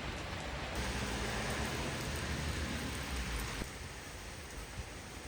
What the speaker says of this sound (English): It's been raining for much of the last half hour.